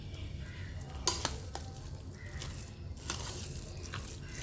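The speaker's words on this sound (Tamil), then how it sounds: "இதை வந்து நம்ம இப்போ சாதத்தில் போட்டு மிக்ஸ் பண்ணிடலாம்" Sambar is stirred into cooked rice, soft wet mixing sounds with a few spoon clinks against the pot, close but quiet over a low background hum.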